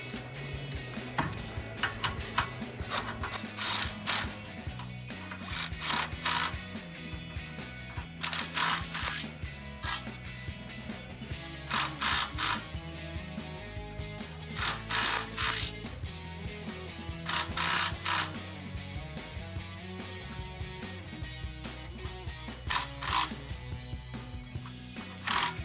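Exhaust clamp bolts are tightened with a ratchet during a cut-and-clamp resonator-delete H-pipe install on a 2015-2023 Mustang GT, heard as repeated quick bursts of close ratcheting clicks separated by short pauses.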